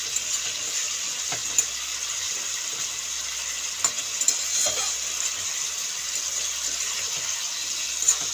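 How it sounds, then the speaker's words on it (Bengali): Spices and ridge gourd sizzle steadily in a hot pan for a light fish curry, a continuous close hiss broken by occasional scrapes and taps of a spatula as the mixture is stirred, with no talking. "আর একটু কষাবো মশলাটা সবজিটাও কষে যাবে মশলাটাও কষে যাবে আর একটু নাড়াচাড়া করে নিলাম"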